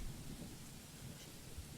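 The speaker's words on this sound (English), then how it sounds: "I feel so uneasy with thunder" Rain and rolling thunder in the video game The Letter, a steady broadband downpour with low rumbles swelling underneath, continuous and fairly quiet throughout.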